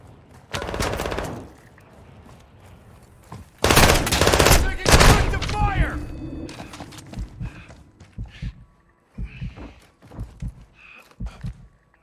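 Gunfire in Call of Duty Modern Warfare II DMZ comes as two loud clusters of shots, one early and one heavier later, with quieter game noises and brief voice-like sounds in between.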